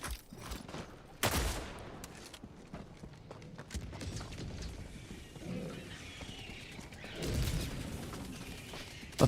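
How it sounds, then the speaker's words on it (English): Volley fire gunshots in the video game Darktide ring out in sharp bursts, a loud crack early on, scattered shots and a heavier cluster of blasts later, with game noise between. "I had volley fire on"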